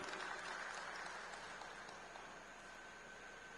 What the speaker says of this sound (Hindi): मैं चाहूंगा एक बार जोरदार तालियां विनोद जी के लिए भी,